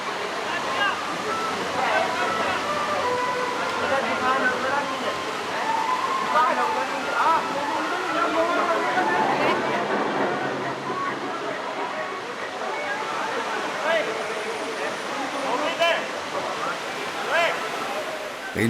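Mountain water pours steadily through the natural pools of Sahasradhara, a constant, moderately loud rush and splash with no pauses, continuous from start to end.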